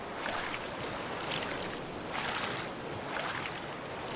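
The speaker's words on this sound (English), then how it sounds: "Put our head down and let's just paddle." Paddling a raft across open ocean in the survival game Raft, with steady rhythmic splashing strokes about once a second over a constant wash of water and wind.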